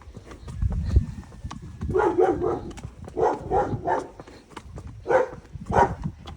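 A dog barks in short repeated bursts close to a horse being ridden for the first time at an equine yard, with soft hoof steps and low background noise throughout.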